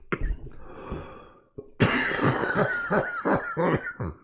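A single person in a podcast setting lets out a short cough, pauses briefly, then breaks into a longer, louder fit of rough coughing and throat noise, close to the microphone.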